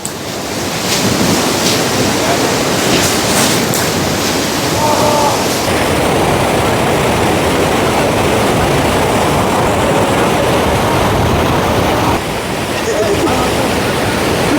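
A rushing glacial meltwater stream on a high mountain trek in the Himalaya, a loud, steady broadband roar of churning water that stays close and constant throughout, with wind buffeting the microphone and a brief voice in the middle.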